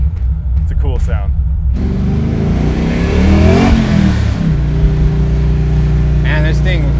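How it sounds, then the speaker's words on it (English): Supercharged 1970 Camaro restomod hot rod with a Whipple supercharger and TKO 500 transmission accelerating hard, a loud engine and exhaust roar rising with a whine, then settling after a shift, with voices talking near the start and end. "You can really hear the whine of this Whipple supercharger."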